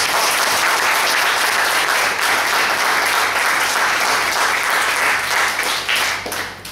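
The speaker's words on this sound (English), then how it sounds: "can we give ourselves a loud round of applause?" An audience at a traditional-clothing occasion gives itself a loud, sustained round of applause, a dense and even roar of clapping that carries almost unbroken to the end.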